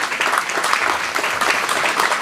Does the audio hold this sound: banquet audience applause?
yes